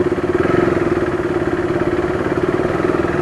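A KTM RC390 motorcycle engine running steadily on a campus test ride, a loud close, even throbbing drone with a constant pulsing rhythm and no speech.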